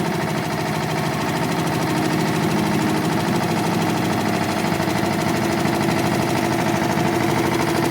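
The engine of a 2-in-1 concrete mixer and lift machine runs under load testing, giving a loud, steady, close drone with a fast rumbling vibration throughout and no talking.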